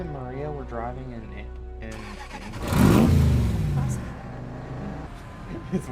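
A car drives past in a TV scene, its engine swelling loud in the middle then fading, with people talking over it before and after.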